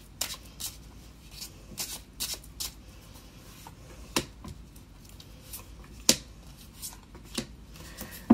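Tarot cards being shuffled for a reading make a series of soft, quick riffling snaps and flicks at an irregular pace, close by and fairly quiet, against a low hiss.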